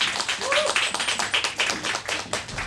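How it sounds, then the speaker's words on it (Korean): Audience applause welcoming a speaker onto the stage at a talk event; brisk, continuous clapping from a crowd, fairly close and even, lasting a few seconds with no talking. "박수로 모시겠습니다."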